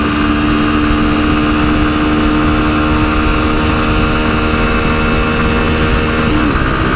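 A Yamaha Ténéré 250 motorcycle revs hard in fourth gear, its single-cylinder engine droning loud and steady near the rev limit with a continuous buzzing whine and no talk.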